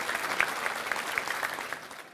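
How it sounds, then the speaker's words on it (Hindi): Audience applause at a televised poetry debate event, steady moderate clapping from a crowd as poets are called to the stage, fairly even throughout with no talk. "तालियां बजाइए भाई इनके लिए"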